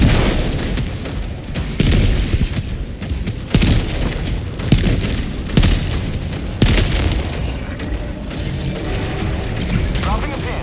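Missile explosions in the Helldivers 2 video game: a run of loud, heavy booms that burst out repeatedly over steady rumbling action, with voices talking throughout.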